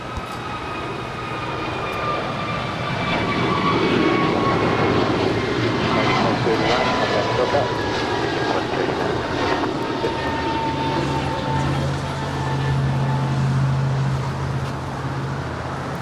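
A United airliner taking off from runway 25 right at LAX, its jet engines roaring steadily with a rising whine, loud and sustained while a voice talks over it.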